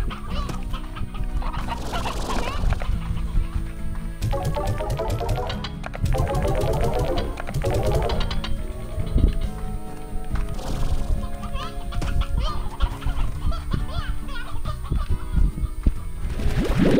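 Video-game chickens in Slime Rancher cluck in repeated short bursts over a steady music bed, with overlapping busy in-game sounds throughout.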